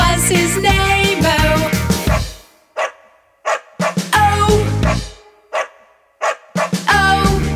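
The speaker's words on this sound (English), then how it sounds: "There was a farm who had a dog, and Bingo was his name-o." A dog barks in short, loud bursts between sung phrases of the children's song Bingo. Several separate yips are spaced by brief pauses over bright musical backing with singing.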